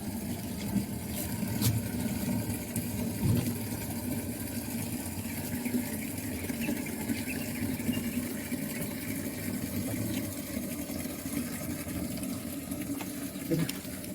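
Free-flowing drinking water fetched from a source in rural Bicol, Philippines, makes a steady, continuous rush that holds evenly throughout, with a low engine-like hum underneath and no clear voices.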